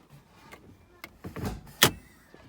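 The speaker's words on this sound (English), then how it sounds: "let's pop the bonnet" The bonnet of a Ford Territory with a Barra engine being released, a few soft clicks and thuds followed by a sharp metallic clunk, close by and otherwise quiet.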